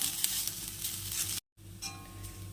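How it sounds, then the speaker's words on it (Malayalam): Chili, coriander and turmeric powders roasting in a hot pan for a fish curry masala, a brief close sizzle with stirring that cuts out abruptly for a moment before resuming more quietly. "ഒന്നര ടീസ്പൂൺ മുളക് പൊടി ചേർക്കാം ഒരു ടീസ്പൂൺ മല്ലിപ്പൊടി അര ടീസ്പൂൺ മഞ്ഞൾപ്പൊടി ഇത്രയും ചേർത്ത് നന്നായിട്ട് ചൂടാക്കി എടുക്കാം"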